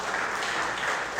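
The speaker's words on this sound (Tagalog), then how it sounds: "Siya nga pong malakas na palakpak para sa Panginoon." A church congregation applauds loudly in praise, a dense, steady wash of clapping with no break.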